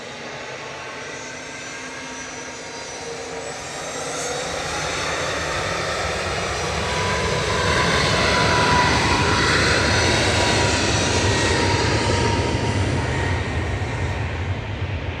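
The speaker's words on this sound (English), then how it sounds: "Here's TUI heading off to Verona, GTUMK with flight 2628 and MAX 8." A TUI Boeing 737 MAX 8 departs Manchester Airport for Verona, its jet engine roar building steadily louder and filling the air with a broad rushing thunder and faint whine, no voices heard.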